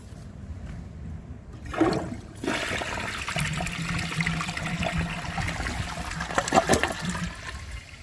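A 2014 Vortens Murano toilet flushes nearby with the handle held down, starting with a clunk and then a sustained rushing, gurgling swirl of water that continues for several seconds.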